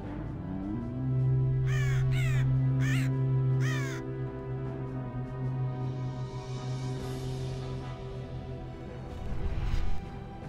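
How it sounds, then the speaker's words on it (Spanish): Storm crows in Warcraft III give four sharp caws in quick succession over a droning musical bed, followed by a swelling whoosh. "Dejad que los cuervos de tormenta vuelen una vez más con los vientos de guerra."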